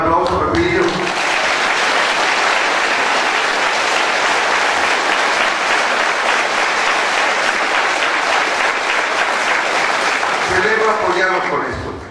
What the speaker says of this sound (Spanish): Pepe Arenas también, un aplauso, Pepillo.